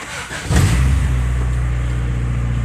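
A race car engine catches and revs, jumping to a loud, steady low roar that holds for a couple of seconds after a quieter lead-in.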